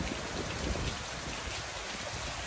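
Steady rain from a summer storm falls in an even, broadband hiss with no voices.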